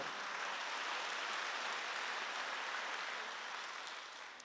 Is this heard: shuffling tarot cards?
no